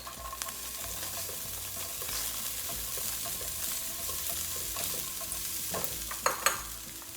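Garlic, onions and ginger frying in a pan, a soft steady sizzle with light stirring scrapes and a couple of sharper clinks near the end.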